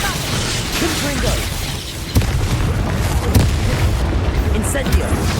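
A Confringo spell blast in the Hogwarts Legacy video game, a loud booming burst amid dense, continuous battle noise and rumbling effects, with a voice calling out over it.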